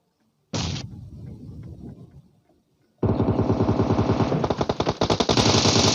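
PUBG Mobile gunfire: a short burst of shots, then after a pause a loud sustained rapid automatic volley as two enemies fire at a window, close and dominant.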